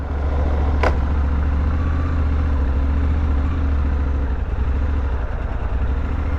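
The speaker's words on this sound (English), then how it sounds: "you literally just push and the bike just starts right up" Suzuki 800DE adventure motorcycle engine idling right after push-button start, a loud, steady low-pitched throb running without a break, close by, with no talk.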